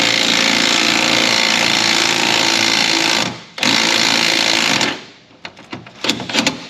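Loud continuous buzzing rattle of a power wrench tightening bolts on the springs of a Chevrolet Silverado 5.3, two long bursts with a short gap, then quieter clicks and taps.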